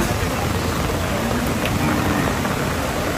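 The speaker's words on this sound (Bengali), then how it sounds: "বৃষ্টি বৃষ্টি পড়তেছে।" Steady rain pours down on a cattle market, a dense, even hiss of falling drops that continues without a break.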